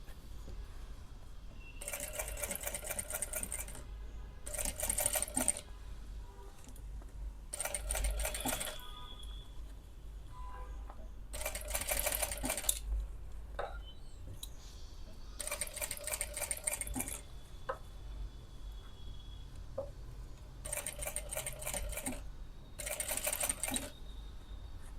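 Domestic sewing machine stitching the lining side of a kurti neckline, running in several separate bursts of steady mechanical whirring with short quiet pauses between them, close and moderately loud, no talking.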